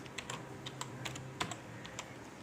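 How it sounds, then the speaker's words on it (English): Light keystrokes tap on a computer keyboard in short irregular bursts, with soft clicks spaced across a quiet room. "Press tab key from the keyboard."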